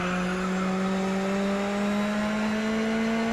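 A touring car engine in the racing game GRID Autosport, loud and close, revving hard with a rising pitched whine as it accelerates steadily through the lap.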